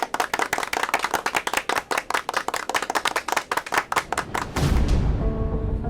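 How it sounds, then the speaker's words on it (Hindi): New kids in a classroom clap their hands in a quick, uneven burst of many claps for about four and a half seconds, close and lively, before the clapping fades into a louder room sound. "नए बच्चे लोग ताली बजा कर तो बता दो।"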